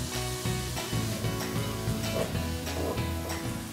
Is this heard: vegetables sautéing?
yes